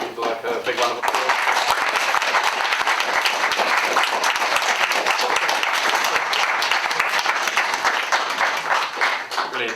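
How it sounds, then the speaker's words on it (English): An audience at a free speech symposium gives a round of applause. Dense, sustained clapping fills the room for several seconds, then tapers off at the end. "Well, I think we'd like a big round of applause."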